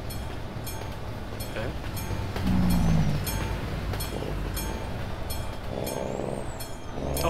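A train passes a level crossing in Euro Truck Simulator 2, a continuous rolling rumble with rhythmic wheel clicks and a brief louder swell, while a person speaks briefly.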